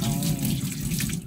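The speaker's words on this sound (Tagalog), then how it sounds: "Tubig namin dito sa lababo guys" A newly installed kitchen sink faucet fitted with a filter runs strongly, giving a steady, close rush of water into the basin with no one talking.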